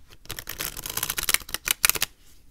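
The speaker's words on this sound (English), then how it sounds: "let's go ahead and give them a shuffle." Close, crisp riffling of an I Ching oracle card deck being shuffled, a fluttering burst of rapid clicks that ends with a few sharp snaps.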